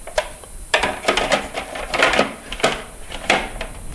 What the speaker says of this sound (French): on va commencer par mixer les noisettes.